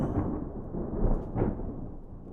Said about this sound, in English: That was some serious rumble thunder.